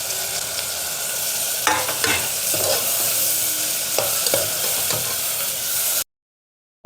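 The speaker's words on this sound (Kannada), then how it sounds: "ಇವಾಗ ಇದಕ್ಕೆ ನಾನು ಬದನೆಕಾಯಿನ ಹಾಕ್ಕೊಳ್ತಾ ಇದ್ದೀನಿ." Eggplant frying in oil in a pan, a continuous close sizzle broken by scraping stirs and spatula knocks, then an abrupt cut to silence near the end.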